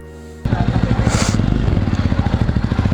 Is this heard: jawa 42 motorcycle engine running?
yes